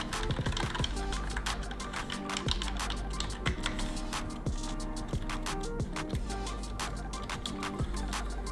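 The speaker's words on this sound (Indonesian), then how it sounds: "lalu kita bisa lihat untuk tombol mengetiknya sendiri masih cukup nyaman kalian gunakan" Typing on a Logitech K480 wireless keyboard: a steady stream of close, crisp key clicks runs throughout over a continuous tonal background.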